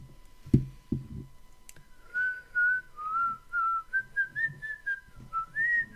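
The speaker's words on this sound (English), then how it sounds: "You'll notice I randomly whistle a lot of stuff." A person whistles a wavering, meandering tune after a couple of soft knocks and clicks, clear and close with no talk.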